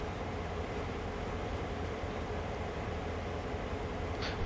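A locomotive in Train Sim World 2 on the Horseshoe Curve line, steady loud rumble and rolling noise throughout with no break, heard on its own.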